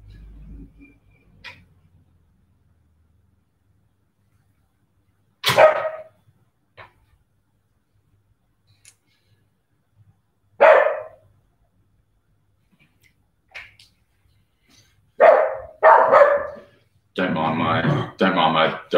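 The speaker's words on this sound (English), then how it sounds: "Don't mind my dog Harry." A pet dog in a home kitchen barks in separate sharp bursts spaced several seconds apart over quiet, ending in a rapid loud flurry of barks.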